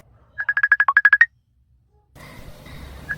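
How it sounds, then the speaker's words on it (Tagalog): A cellphone rings for an incoming call, a rapid burst of about a dozen bright electronic pulses, then quiet before faint room noise and a single short tone return. "adda umawag iti cellphone na"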